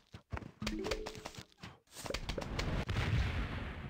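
In the Plants vs. Zombies video game, a cherry bomb goes off as a sharp burst that leaves a rumbling noisy tail, after a run of clicks and short game sound effects.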